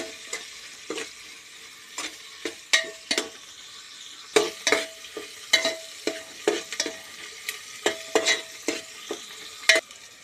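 Onions stirred in a pan for chicken pulao, a series of sharp spoon scrapes and knocks against the metal at irregular intervals over a faint sizzle, close and clear.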